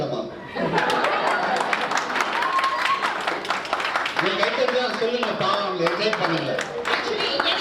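An audience claps at a Pongal festival debate (pattimandram) with a speaker talking over the applause, the clapping heard as a dense, ongoing patter of many hands.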